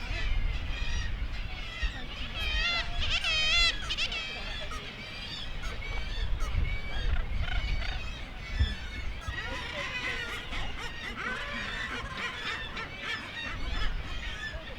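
Northern gannets call from a crowded seabird cliff colony as birds hover to land, a dense, continuous wash of harsh overlapping cries and honks, with faint talk underneath.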